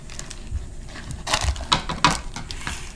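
Scissors cutting the lid material for a custom cozy for a backpacking cook set, with a few close crunching snips over soft rustling handling noise.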